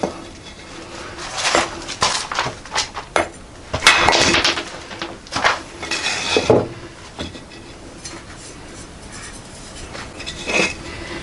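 A thin carbon-steel cleaver chops through bone on a board, giving repeated sharp knocks and clinks in an irregular rhythm, close and fairly loud, with a few heavier blows in between.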